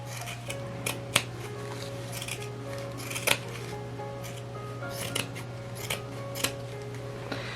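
Scissors snip through a yarn pom-pom in a quick, irregular series of sharp close cuts over a steady background hum.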